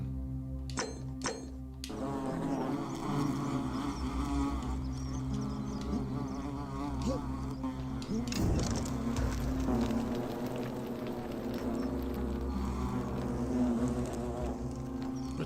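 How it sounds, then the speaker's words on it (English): Wasps buzz in a steady, continuous drone from the video game The Forgotten City, a dense insect hum with a brief burst of sharp clicks at the start, holding loud and close throughout with no talking. "It's a set of wasps."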